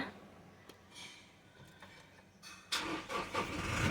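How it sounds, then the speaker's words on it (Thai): A Toyota Fortuner's 2.8-litre diesel engine cranks and catches after a quiet moment, then settles into a steady, rough idle. "เดี๋ยวเราทำการสตาร์ทเครื่องยนต์นะคะ"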